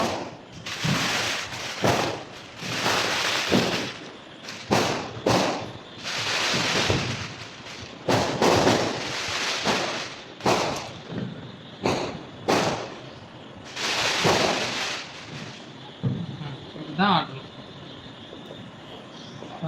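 Repeated sharp bangs of Diwali firecrackers bursting at irregular intervals, some close and loud, others fainter, with a crackling tail between blasts.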